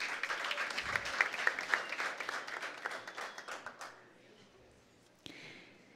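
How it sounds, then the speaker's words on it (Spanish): An audience at a regional oratory competition awards ceremony applauds with distinct claps that fade out after a few seconds, followed by a near-silent pause and one brief knock. "También con un fuerte aplauso."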